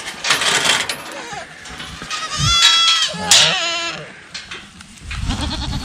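Baby goats on a farm bleat loudly and repeatedly at close range, their wavering cries overlapping, with clinking and other farmyard noise between calls.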